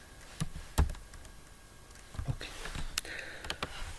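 Someone types code on a computer keyboard in quiet room tone, producing a few separate sharp key clicks, then a busier run of taps near the end.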